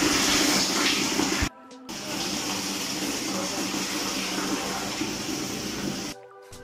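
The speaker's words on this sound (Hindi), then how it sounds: "पानी आने लगा" Water gushes steadily from a pipe fed by a newly replaced water pump motor in a loud, continuous rush, cutting out briefly twice.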